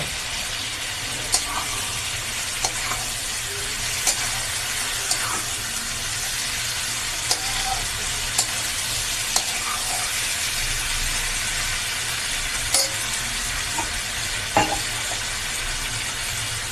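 Freshwater fish frying in a pan with radhuni spice paste, a steady loud sizzle with occasional soft clinks and stirring, no talking.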